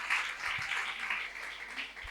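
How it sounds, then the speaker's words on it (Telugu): A church congregation clapping together in praise of God's name, a dense, steady patter of many hands with a faint voice underneath. "చప్పట్లు కొడదాం దేవుడి నామానికి."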